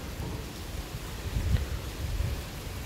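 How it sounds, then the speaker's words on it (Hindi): Heavy rain pours steadily during an evening thunderstorm, a dense hiss with a low rumble of thunder swelling near the middle. No one speaks over it. "इस टाइम फुल तेज़ बारिश स्टार्ट हो चुकी है"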